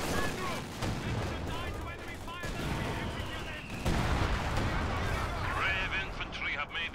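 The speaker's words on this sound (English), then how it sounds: "Artillery fire! Take cover!" Artillery fire booms and rumbles in the Stalingrad battle of Company of Heroes 2, steady dense shelling and gunfire under shouted voices and game chatter.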